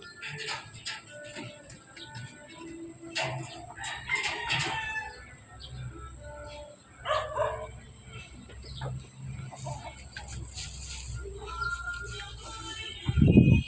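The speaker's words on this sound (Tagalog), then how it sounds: "Ayun, may ibon." A rooster crows amid clucking chickens and other bird calls in a busy outdoor yard, with people talking softly nearby.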